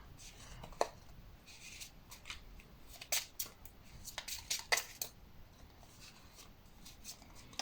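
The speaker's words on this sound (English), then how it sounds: "Yeah, they're really hard to shuffle." Tarot cards shuffled by hand at close range, a run of quick papery riffles and snaps with uneven bursts, while a person talks quietly in the background.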